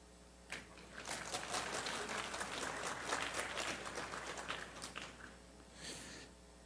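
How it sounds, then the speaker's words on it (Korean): An audience at a staff humanities training lecture applauds after a poem reading, a brief burst of scattered clapping that is fairly faint and roomy, swelling then fading within a few seconds. "시 읽는 걸 듣고 박수 쳐본 게 언제였어요?"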